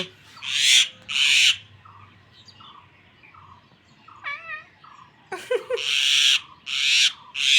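A mynah bird repeats harsh, raspy calls in bursts, mixed with softer whistles and chirps in between, close by and fairly loud.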